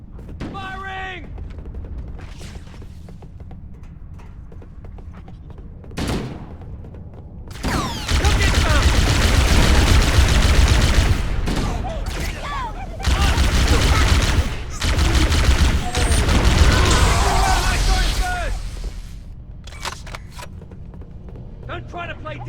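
Heavy automatic gunfire from the video game Halo: Combat Evolved, loud sustained bursts with brief pauses, mixed with game effects and faint voices from the game.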